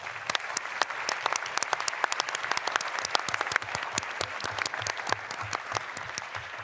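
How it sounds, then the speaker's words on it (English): An audience claps for the panelists after a discussion, producing a steady round of sharp, closely spaced handclaps that carries on without talk. "let's give a round of applause to..."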